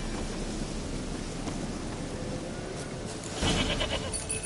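A goat bleats briefly in The Witcher 3: Wild Hunt, a short call rising near the end over a steady game ambience of soft outdoor noise.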